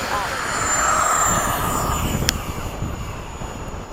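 An F/A-18 jet climbs at an air-to-air combat event at LFE, its engine roaring loud and steady throughout, with a brief sharp tone partway through and people talking over it.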